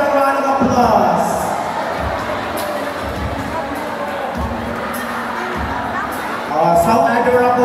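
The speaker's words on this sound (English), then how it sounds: "let's give them a round of applause" Audience applause and cheering for children at a parish night event at Sto. Niño Parish in Poro, Cebu, with clapping, children's shouts and babble, loud and sustained, swelling again at the end.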